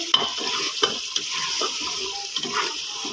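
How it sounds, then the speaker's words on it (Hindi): Spiced yogurt masala with beef frying in a pot, a continuous crackling sizzle broken by repeated scraping stirs of a spoon against the metal, close and moderately loud, with no talking. "इसको इसके साथ अच्छे से हम भुनाई करेंगे"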